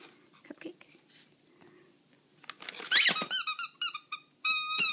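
A squeaky dog toy gets squeezed repeatedly in quick bursts, loud high-pitched squeals close by, after a quiet stretch of soft rustling and faint voices in a home setting.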